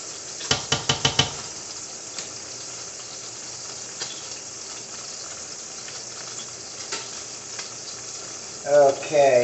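Meatballs being stirred in sauce in a frying pan, a steady close sizzle with a quick run of spoon knocks against the pan at the start and more scraping at the end.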